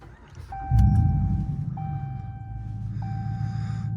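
A 2019-or-later Ram 1500 pickup idles in park with a low, steady engine rumble that swells briefly, while a repeating electronic chime beeps several times over it.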